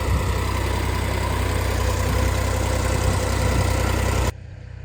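A tractor engine idles with a steady, close, low rumble while hitched to a cultivator for potato rows, then the sound cuts off abruptly just before the end.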